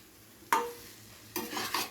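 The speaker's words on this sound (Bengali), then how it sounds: "এবারে আরও একবার ভালো করে নাড়াচাড়া করে এটা নামিয়ে নেব" A spoon stirs spicy dry potato curry in a pan, giving two short scraping bursts, the first near the midpoint and a longer one toward the end, over a quiet background with no talk.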